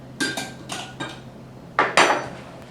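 A metal pie crust pan is set into a kitchen oven, with a few sharp metallic clanks and clinks in two short bursts, close and fairly loud, with no voices over them.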